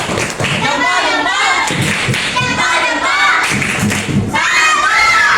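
A school class does the 'tepuk salut' clapping routine, with a crowd of children clapping and chanting loudly in unison in patterned bursts over about five seconds.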